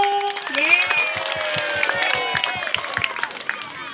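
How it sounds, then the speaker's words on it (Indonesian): Classmates clap after a junior high school girl's presentation on the female reproductive system, scattered applause and cheering with voices calling out over it, fairly close and lively. "Tepuk tangan dulu."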